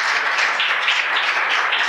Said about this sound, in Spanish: Un aplauso por favor a todos